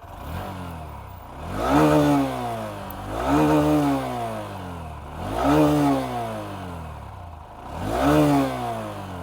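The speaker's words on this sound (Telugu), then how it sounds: "సో ఇదైతే ఈ బైక్ ఎగ్జాస్ట్ నోట్." A 2025 Honda SP 125 motorcycle is revved at full throttle, four times in a row. Each rise climbs steeply and falls away, and the close, buzzy exhaust note sounds with no talk over it.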